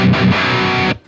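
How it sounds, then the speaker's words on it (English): Electric guitar on the full humbucker setting, played through an overdrive pedal: a loud, gritty distorted chord rings out steadily for about a second, then cuts off abruptly into a faint tail. "when I do split tones, I want to hear that sort of bite in the overdrive sound"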